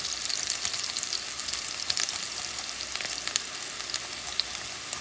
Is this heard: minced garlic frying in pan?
yes